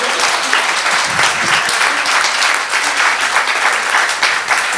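Warm, sustained applause from an audience at a poetry evening of Greek and British women poets at the Hellenic Centre, dense clapping throughout, loud and close.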